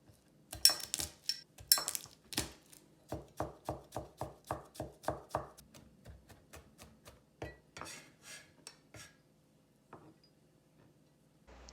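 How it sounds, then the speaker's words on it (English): A knife crushes and then minces garlic on a cutting board, with a few sharp thumps followed by a steady run of quick, close, rhythmic chops that slow and fade out. "Now crush the garlic and mince it."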